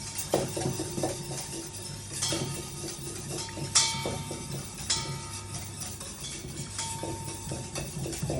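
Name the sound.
whisking olive oil into a dressing with a small whisk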